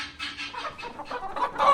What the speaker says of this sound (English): We hatched the chickens, and out of 20 of them, 4 or 5 of them are roosters.